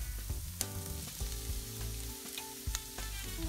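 Leftover prime rib beef sizzles steadily as it fries in a pan of roast beef hash, with sharp stirring clatters and scrapes breaking through the continuous close hiss.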